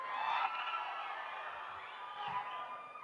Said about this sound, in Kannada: ಬರ್ಲಿ ಚಪ್ಪಾಳೆ ರಾಮ್ ಸರ್ಗೆ ಪ್ಲೀಸ್ ಬೆಂಗಳೂರು